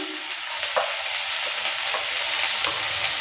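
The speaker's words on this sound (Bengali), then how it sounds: "রসুন আর পেঁয়াজটা দেওয়ার পর ভালো করে আবারও নেড়ে নিচ্ছি আর যতক্ষণ রসুন পেঁয়াজের কালারটা না চেঞ্জ হয় ততক্ষণ অবধি ভালো করে নেড়ে নিয়ে ভেজে নেব" Chopped onion and garlic stirred and fried in a pan, a steady close sizzle with occasional scraping strokes from the spoon, no voices.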